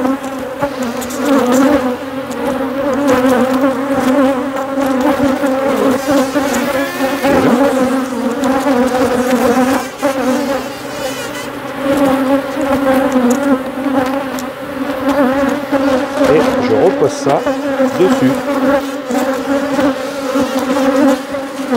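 Many honeybees buzz continuously and loudly close by around a hive, a dense droning hum with a brief spoken remark over it.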